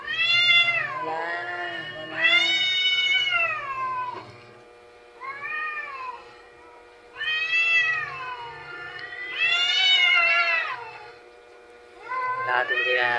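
Cats on a rooftop meow in a series of loud, drawn-out, wavering calls, close by, with short pauses between each cry.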